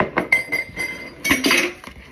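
Clinks and taps of a utensil against a bowl as ingredients, including gluten-free flour, are mixed, in quick irregular strikes close by with no talking.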